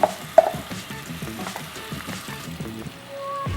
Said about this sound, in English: So now we're going to add that red pepper garlic mixture that we made to these onions because they're looking pretty golden